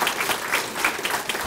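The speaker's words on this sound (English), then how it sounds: "And a round of applause, if you would, for one another" Brief burst of dense audience applause at a heritage area council awards gathering, close and steady with no voices over it.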